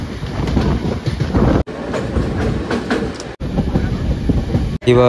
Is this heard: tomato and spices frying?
no